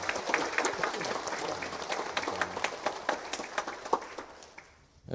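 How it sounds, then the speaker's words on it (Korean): A church congregation at a Sunday morning service claps together in sharp, closely spaced strokes, loud and near, building steadily before fading out at the end. "우리 박수로 영광 돌리겠습니다"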